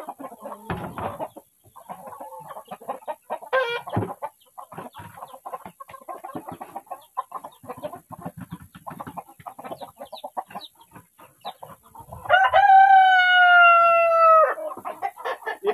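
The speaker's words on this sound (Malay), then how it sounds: "Ni adalah kali pertama anak ayam menetas di kebun abah." Chickens and newly hatched chicks in a garden pen, with repeated clucks and scattered peeps throughout, then a loud rooster-like crow near the end.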